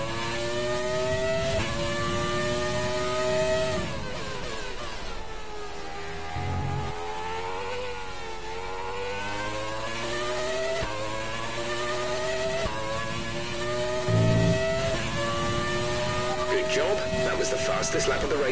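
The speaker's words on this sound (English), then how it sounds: "you can't really not appreciate the sound of that engine." Formula One car engine in the F1 2020 racing game at Silverstone, a loud high-pitched whine rising and falling through gear changes and revving, with a voice talking over it throughout.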